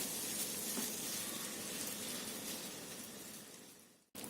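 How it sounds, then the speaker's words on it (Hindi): Mawa frying in two tablespoons of ghee in a pan on medium flame, a steady close hiss of sizzling that fades slightly before a brief cutoff near the end. "मावे को हम मीडियम फ्लेम पे लगातार चलाते हुए 5 मिनट तक भूनेंगे"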